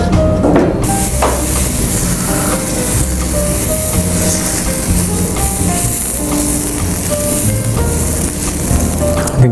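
Korra pesarattu dosa batter sizzles steadily on a hot pan, a continuous loud hiss with a few clinks of utensils over a constant hum.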